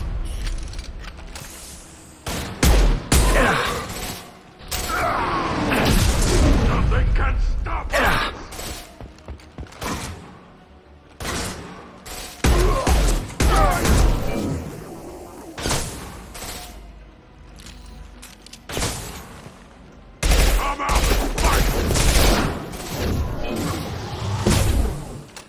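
Gunfire and combat from the video game Mass Effect 2 comes in loud, dense bursts of shots, impacts and mechanical clatter, with short lulls between volleys.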